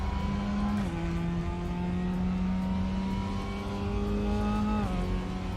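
A Mazda MX-5 race car engine in the RaceRoom racing game, droning at steady high revs with two quick gear shifts, one early and one near the end, loud and close in the cockpit with no talking.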